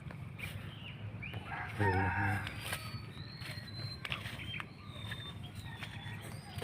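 Birds call in an otherwise quiet outdoor setting, a rooster crowing once loudly and a few chirps and clucks scattered around it.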